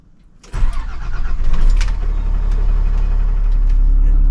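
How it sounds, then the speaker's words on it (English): An RV engine cranks and catches after a quiet moment, rising into a loud, steady low rumble as it settles into an idle up close. "I'm getting ready to crank up the engine."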